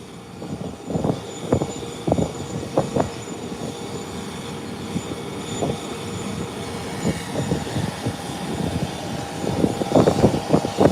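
A plane taking off at Howard Hamilton International Airport, its engine roar rising and rumbling at a distance with intermittent sharp thumps and rattles in the foreground, growing louder toward the end.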